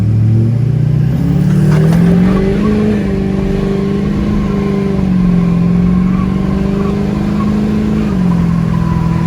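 A Duramax diesel truck pulls away from a dead stop on a drag strip with a loud, close engine roar that climbs in pitch through the gears, then settles into a sustained drone.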